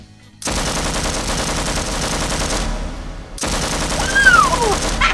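Rapid automatic gunfire from a heavy-recoil gun in a Persona 5 parody fight: two long, dense bursts of shots, close and loud, split by a brief pause.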